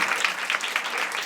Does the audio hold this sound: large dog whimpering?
no